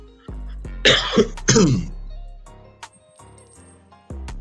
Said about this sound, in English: Cough up a lung.